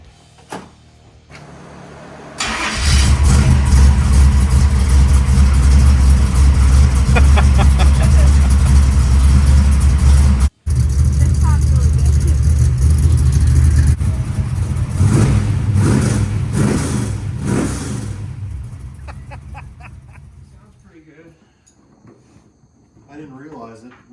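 A 1978 Chevrolet Malibu with a different muffler cranks and fires, settling into a loud, deep idle and rumble with a few blips of revving, then fading near the end, with people talking around it.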